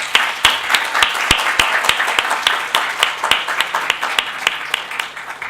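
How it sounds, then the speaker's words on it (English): An audience at a summit on Black issues, held in a library, claps for the opening speakers. The applause is loud and dense, with sharp individual claps standing out in a steady patter, and no voices come through. "let's give another round of applause to our first two speakers"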